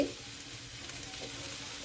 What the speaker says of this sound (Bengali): খুব ভালোভাবে সব সবজিগুলো ভাজা হয়ে গেছে